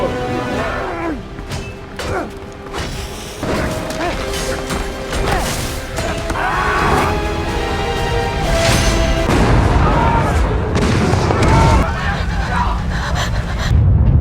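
A fireworks factory explodes in an action film scene, with booms, crashes and clanking debris layered under a dense, continuous, loud cinematic soundtrack.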